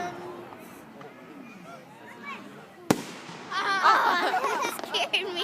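Fireworks at a night show go off in a sharp single crack near the middle, then a dense burst of crackling and popping, with people's voices chattering throughout.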